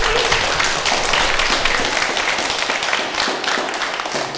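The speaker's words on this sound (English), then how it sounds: "let's give them a big round of applause" Audience at a summer retreat panel session giving a round of applause, loud dense clapping from many people, steady and close, tapering slightly toward the end.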